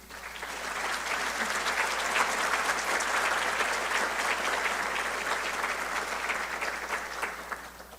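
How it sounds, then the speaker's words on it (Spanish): Steady, sustained applause from a sizable crowd at a formal legal event in Mexico, dense clapping that holds at an even level for several seconds with no voices rising above it. "a quien recibimos con un cálido aplauso."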